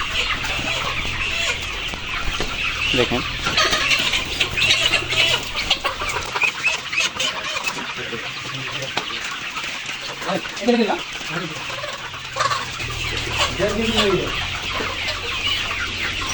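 Layer pullet chickens cluck and squawk in a busy, close chorus on a poultry farm in Kushtia during a sale, with intermittent calls rising above steady murmuring and someone speaking briefly.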